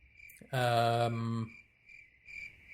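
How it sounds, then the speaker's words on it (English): A cricket chirp used as a comedic silence effect rings out as one sustained, buzzy trill lasting about a second, then fades to a faint high tone with weaker chirps after. "It turns out crickets."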